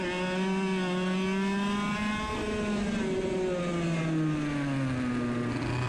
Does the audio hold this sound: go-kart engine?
yes